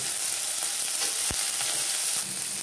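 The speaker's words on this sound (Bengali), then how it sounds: "এবার আমি এর মধ্যেই দিয়ে দেবো কাজু কিশমিশটা, দিয়ে একটু ভেজে নেব।" Cashews and raisins fry in hot oil in a pan for a vegetarian dal, giving a steady close sizzle with a few scraping stirs and no voices.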